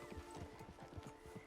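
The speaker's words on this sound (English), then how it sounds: "Get on the horse when you're ready." Horse hooves clip-clopping in Red Dead Redemption 2, a steady, fairly quiet rhythm of hoof falls at a walking pace, heard alone without talking.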